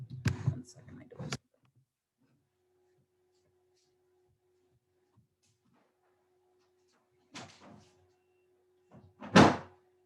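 A door swings shut with a brief thud and rattle near the end, following a short burst of movement at the start; a quiet steady hum fills the gap between, and a voice speaks.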